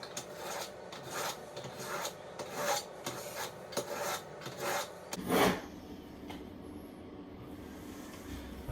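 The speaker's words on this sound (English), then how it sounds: "as I've been sharpening it, those little black bits on the knife there, that's the bits of steel where they've worn away" A steel fillet knife is sharpened with rhythmic rasping strokes, about a dozen close, fairly quiet passes in steady succession, followed by a brief louder scrape and then quiet.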